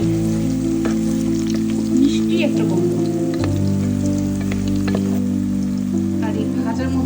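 Onions, chillies and garam masala fry in a pan for meat bhuna, giving a loud, steady sizzle throughout with a low hum underneath while a person talks briefly.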